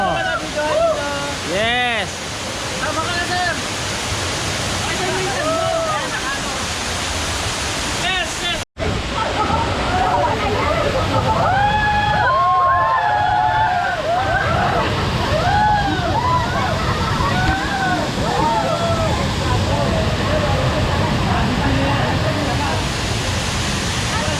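Cold, clear spring water at a resort in San Pablo, Laguna, pours out in a loud, steady rushing flow as the pool is drained, with people talking over it throughout.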